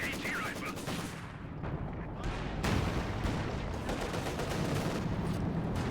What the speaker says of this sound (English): Here we have the first, I guess, better weapon barrage after all